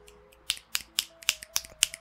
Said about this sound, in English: Yeah, that's snapping.